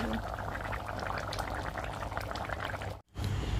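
Mutton and ash gourd curry simmering in a pot over low heat, a dense continuous bubbling hiss that cuts off abruptly near the end.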